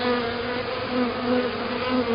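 A large honeybee swarm in Lithonia, Georgia, building wax, gives off a dense, steady buzzing hum, close and continuous throughout with no voices.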